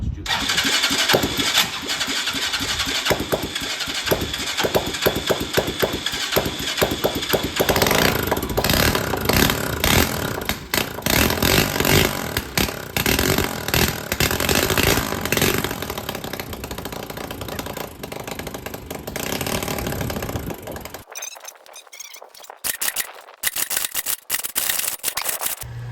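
A 250 cc engine cranks and catches, then runs with a loud, rough, fluttering drone for about twenty seconds before cutting off, followed by a few sputters and clatters.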